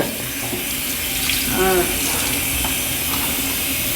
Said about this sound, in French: il faut quelqu'un avec moi pour rincer